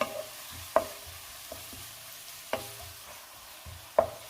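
Sliced onions fry over a medium flame for chicken biryani, a soft steady sizzle punctuated by three or four sharp scrapes and taps of a spoon stirring against the pan, with no talking.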